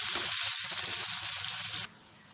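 Onions and curry leaves fry in hot tempering oil with a steady, close sizzle, then the sound drops abruptly to near silence near the end.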